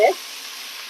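Beef browning in a stew pot gives a short burst of sizzle at the start, then settles into a steady, moderate frying hiss for about a second.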